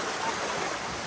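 A village stream in a wooded spot flows with a steady, broadband rushing wash of cold water, continuous and fairly close, with no voices over it.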